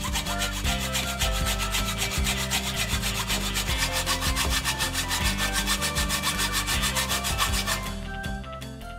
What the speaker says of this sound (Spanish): Sierra para cortar metal. Podéis utilizar también una sierra eléctrica, en nuestro caso a mano.